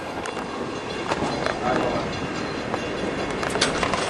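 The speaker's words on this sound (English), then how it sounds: "That's a train, by the way, in the background," A train rumbles past at a distance, a steady low roar with faint rhythmic clacking and hiss underneath.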